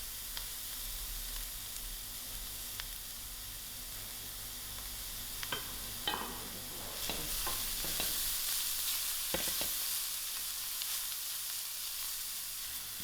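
Carrots fry in a pan ahead of lamb mince for a lasagna, giving a soft continuous sizzle with scattered stirring scrapes and clinks that grow busier toward the middle before settling back to a quiet hiss.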